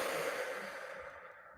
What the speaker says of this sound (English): That might be by taking deep breaths